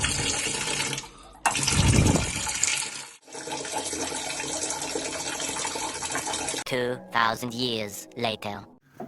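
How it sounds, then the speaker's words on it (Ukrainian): Water drains from an electric water heater tank being flushed for cleaning: a steady rushing, splashing flow that fills most of the stretch, briefly cut off, with a person talking near the end. "вода ніби ось пішла з бойлера"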